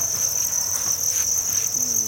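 Thai field crickets packed in egg cartons chirping in a continuous, loud, high-pitched trill, dense and unbroken, with faint background rumble.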